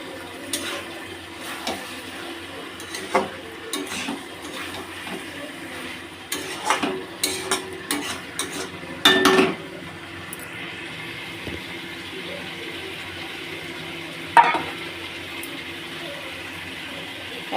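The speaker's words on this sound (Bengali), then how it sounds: "কি সুন্দর ফুটছে, ওই দেখুন তেল ছেড়ে এসছে।" Chicken curry with chicken masala cooks in oil in a pot, giving a low steady bubbling sizzle broken by bursts of stirring and clattering spoon knocks against the pan.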